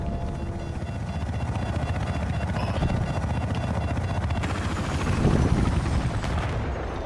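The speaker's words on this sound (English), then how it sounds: "Chop's going down, chopper's going down." A military helicopter in a video game roars loudly and continuously at close range, its dense rotor and engine din mixed with bursts of gunfire throughout.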